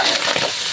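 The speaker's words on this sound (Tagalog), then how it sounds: "Halo-haloy lang natin mga idol." Chicken fat and liver adobo with string beans being stirred in a dry pan, a brief close scrape of the utensil over a steady sizzle, with no talking.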